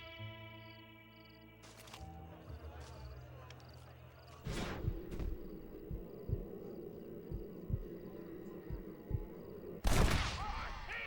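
Gunshots ring out in a Wild West gunfight in Red Dead Redemption after a shouted warning, sharp reports scattered across several seconds, with a loud burst near the end over voices and game music.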